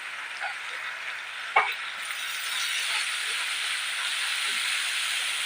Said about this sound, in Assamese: শাকখিনি দি এনেদৰে অলপ সময় ভাজি ল'ম।